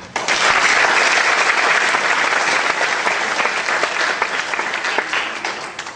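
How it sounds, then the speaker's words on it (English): A large crowd at a Zomi community celebration claps together in loud, sustained applause that starts suddenly and stays strong for about six seconds, easing slightly near the end. "shall we all clap our hands together?"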